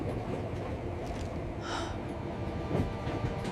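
A São Paulo Line 2 metro train rumbles along with a constant low roar and faint rail clatter, heard from inside the carriage, with no speech.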